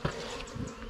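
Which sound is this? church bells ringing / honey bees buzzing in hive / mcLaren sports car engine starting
honey bees buzzing in hive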